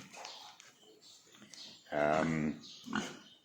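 Piglets grunt and squeal close by in short bursts, with a louder, drawn-out squeal in the middle and a brief grunt near the end.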